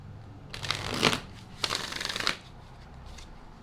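Tarot cards being shuffled by hand, two quick riffling bursts with a short pause between, close and fairly quiet, followed by a faint third flutter.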